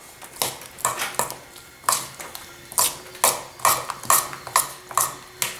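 A spoon tosses a fruit cup in a bowl, producing a series of sharp, close clinks and scrapes against the bowl in an uneven rhythm with short pauses between strokes.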